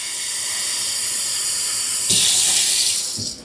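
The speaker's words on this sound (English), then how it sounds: "let me get a glass of water. I'll use this coffee cup" Tap water runs steadily into a coffee cup in a home kitchen, a continuous close hiss that brightens and swells as the cup fills, then tapers off near the end.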